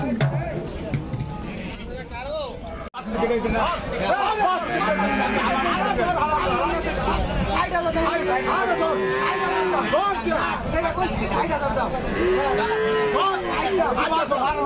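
Cattle at the Shimulia cow market low occasionally amid a constant crowd hubbub, with several people talking loudly close by throughout.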